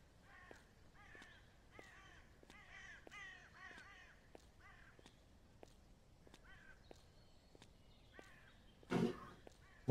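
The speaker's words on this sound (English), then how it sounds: "Bunch of crows" A group of crows caws repeatedly in harsh, evenly spaced calls, some near and some farther off, over a quiet outdoor background, with a brief loud rustle or thump near the end.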